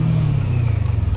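A Kawasaki Versys 650 motorcycle pulls hard in first gear, its engine note droning loud and close in a short, steady burst of acceleration.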